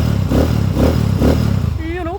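A Honda TMX155 motorcycle engine converted to 200cc revs in steady, pulsing bursts close by, with a voice speaking briefly near the end.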